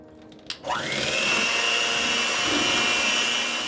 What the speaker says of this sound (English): I'm going to blend 2 eggs in with that whipped cream cheese.